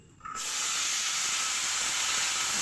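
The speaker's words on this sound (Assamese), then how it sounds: "তাত মই এতিয়া বিলাহী আৰু মটৰখিনি দি দিম।" Tomatoes and peas hit hot fried onions in a pan, setting off a sudden loud, sustained hiss of sizzling right up close after a brief quiet moment.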